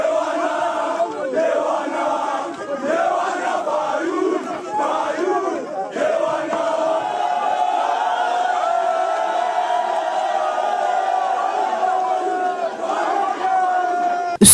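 A large crowd at Inongo in the Democratic Republic of Congo welcomes politician Martin Fayulu with sustained chanting and shouting voices, a steady dense roar that carries on without a break.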